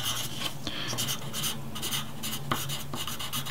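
Pen writing joined cursive letters on paper for an adult handwriting lesson; close, continuous scratchy strokes in short bursts, with brief lifts of the pen between letters.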